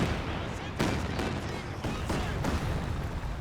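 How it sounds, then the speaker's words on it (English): An artillery strike in the Company of Heroes 2 game, a short stretch of dense battlefield noise with several sharp blasts rising out of a steady roar of gunfire. "Good artillery strike."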